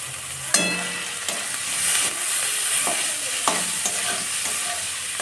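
Chopped tomatoes fry with browned onions for a potato and egg curry, giving a loud, continuous sizzle punctuated by a handful of sharp spatula scrapes and taps against the pan.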